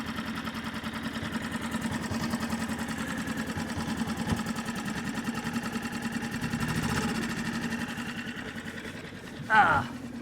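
A Hangkai 6.5 four-stroke outboard motor runs steadily nearby, a rapid even mechanical hum and buzz holding at a constant pitch for the whole stretch, with a brief louder rustle near the end.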